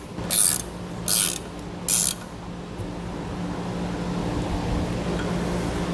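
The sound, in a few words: tightening down disc brake assembly bolts in an X pattern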